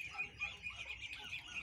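Chickens cluck softly inside a rural poultry coop that also houses geese and ducks, a steady murmur of low calls with a faint high bird chirp running through, continuous and moderately distant.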